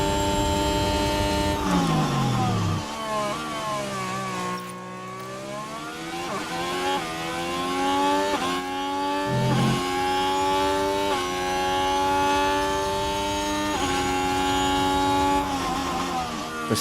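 A high-pitched Formula 1 racing engine in the motorsport management game F1 Manager 24, revving and shifting up and down through the gears for a sustained stretch, loud and close, with no talking.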